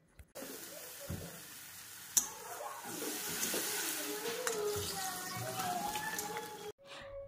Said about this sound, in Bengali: তেলটা গরম হলে একটু জিরে দিয়েছি সামান্য পরিমাণে দিয়ে মাছটা আমি ছেড়ে দিয়েছি এবার মাছটাকে আমি ভালো করে কষিয়ে নেব